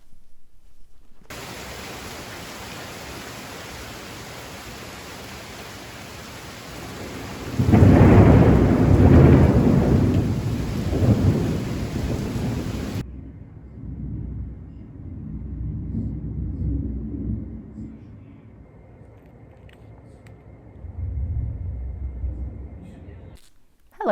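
A thunderstorm with rain hiss and one heavy, close thunder crash that rolls and rumbles for several seconds, followed by quieter distant rumbles fading in and out.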